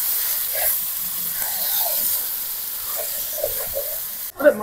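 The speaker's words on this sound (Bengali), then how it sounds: "আমি একটু চাপা দিয়ে দিয়ে কষে নেবো মাংসটা" Marinated chicken for biryani sizzles and hisses steadily in a hot pan as it is sautéed, a continuous close frying crackle with a brief clatter near the end.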